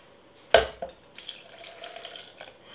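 Tap water splashes while a blender is washed out in a kitchen sink, starting with a sharp clatter, then a softer, uneven trickle and gurgle lasting a couple of seconds, close and fairly quiet.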